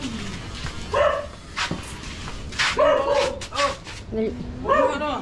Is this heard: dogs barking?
yes